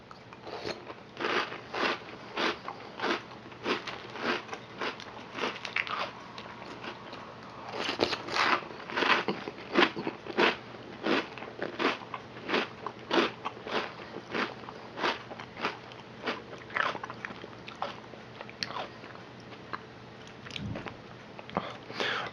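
Crunchy Jolly Rancher cereal from General Mills (2020) being eaten, with steady close crunching and chewing bites repeating throughout in a quiet setting.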